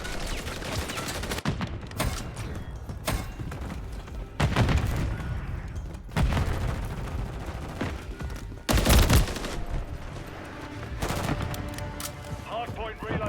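Enemy gunfire rattles through a shooter video game in a hardpoint match. Repeated loud volleys and heavy bursts follow each other in quick succession, with occasional voices mixed underneath.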